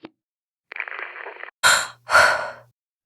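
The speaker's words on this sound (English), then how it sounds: "A woman breathing unsteadily." A woman breathing unsteadily in complete darkness: a short catch, a trembling drawn-out inhale, then two heavy shaky sighing exhales, close and isolated in silence.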